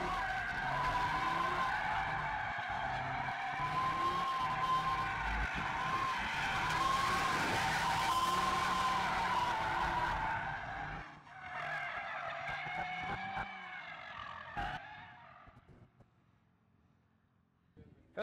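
Loud, sustained tire squeal as a 2022 Audi RS3 drifts on a racetrack, engine revving underneath, then the squealing breaks into shorter bursts and fades toward quiet.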